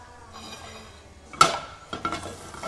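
Veal shanks searing in butter and olive oil, a low sizzle jumping into a sharp hiss as meat hits the pan, followed by clinks and scrapes of tongs against metal.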